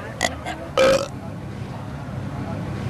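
A person lets out a loud, close burp of about a third of a second, preceded by a couple of brief vocal sounds, with quiet room noise afterward.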